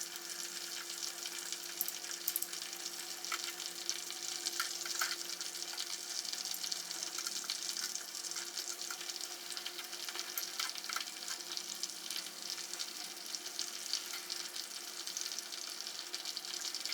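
French fries made from potatoes sizzle steadily in hot oil over lowered heat, a continuous dense crackling hiss, close and even throughout, with no talking.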